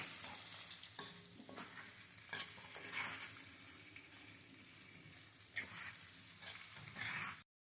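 Spiced potato curry with coriander powder, cumin and kitchen king masala being stirred in a pan, a soft steady sizzle under repeated scraping strokes of a spoon, close and alone with no talking.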